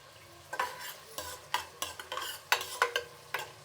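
Whole washed green chillies frying in a pan, with loud bursts of spattering sizzle and scraping stirs recurring every half second or so, close and without talk.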